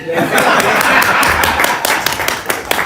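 Audience applause at a 2022 event, a dense steady wash of clapping with sharp individual claps standing out, loud and close, lasting throughout with some chuckling mixed in.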